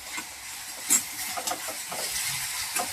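A radish and onion vegetable dish is stirred in a pan, with a steady soft sizzle and occasional scraping clicks from the spoon, close and continuous with no talking.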